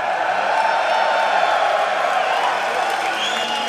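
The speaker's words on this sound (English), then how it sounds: "the crowd is amazing here." A packed esports arena crowd at a 2014 EU LCS League of Legends match roars and cheers steadily and loudly throughout, a continuous wall of voices and applause.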